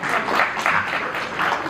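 Audience applause at a book launch ceremony held at a school, a steady wash of clapping that swells and dips over under two seconds, fairly loud and continuous.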